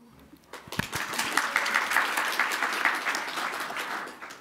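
Audience at a research conference applauding the organising team, clapping rising quickly after a few early claps into steady, moderately loud applause that holds to the end.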